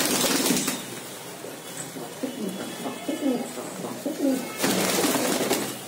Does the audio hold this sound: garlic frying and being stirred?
no